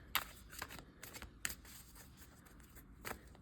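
Heavy-duty oracle cards shuffled in a few quick riffling bursts, crisp papery flutters separated by short pauses, close up and alone.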